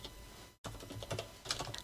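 Rapid, uneven clicking of keys on a computer keyboard while chart data is typed in, close and steady, with one brief pause before the tapping resumes.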